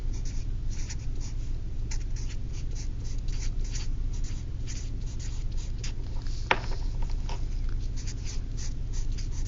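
Pen or pencil scratching steadily across paper while an algebra solution with a fractional exponent is written out, a continuous close rubbing scrawl with small strokes over a low hum, no voices.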